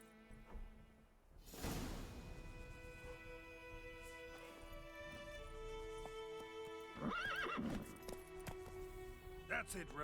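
Geralt's horse Roach from The Witcher 3 video game gives two loud, wavering whinnies, with hooves clip-clopping underneath and faint background music.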